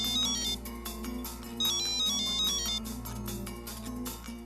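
A phone ringtone on an outgoing call plays in a repeating melodic pattern, fairly quiet and steady, with no voices.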